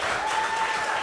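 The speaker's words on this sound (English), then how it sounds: "Just give yourself another round of applause." Applause from the audience at a university convocation ceremony, a steady dense patter of clapping filling the room for about a second, with a faint tone running beneath it.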